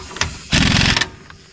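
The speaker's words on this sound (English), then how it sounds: "So I got my impact gun ready, and we'll see what we got here" An impact gun works on the wheel lug nuts of a 1969 station wagon: one short, loud rattling burst of about half a second, with quieter shop noise before and after.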